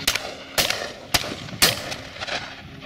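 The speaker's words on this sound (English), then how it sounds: "Another nice shot out the back by Shaky." Shotgun blasts at a partridge shoot, three or four sharp cracks in quick succession at moderate distance, each with a short outdoor echo and no talk.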